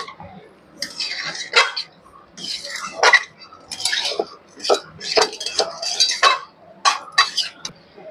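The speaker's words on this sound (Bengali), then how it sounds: "চিকেনটা দিয়েছি, তো চিকেনটা দিয়ে একটু ভালো করে কষবো।" Chicken frying and being stirred in a pan for chicken kosha, with repeated clattering scrapes of a utensil against the metal pan over a soft sizzle, in irregular bursts close by.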